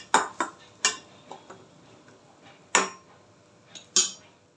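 A spoon knocks and scrapes against a bowl while masala spices are mixed, giving a series of sharp, separate clinks with quiet gaps between them, close and fairly soft.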